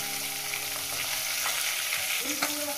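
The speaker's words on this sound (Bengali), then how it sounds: "এই মাছগুলো আমার ভাজা হয়ে গেছে" Tilapia pieces frying in hot oil give a steady, dense sizzle throughout, with a few brief louder pops and crackles near the end and no voices.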